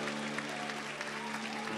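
A church congregation applauds during a sermon: a steady wash of clapping from many hands, fairly distant and even, with a low sustained tone humming underneath.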